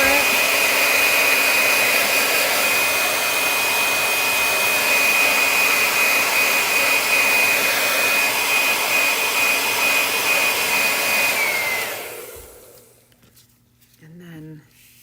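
A hair dryer drying paint on a block pumpkin craft blows in a loud, steady whoosh for most of the time, then shuts off near the end and leaves a quiet room.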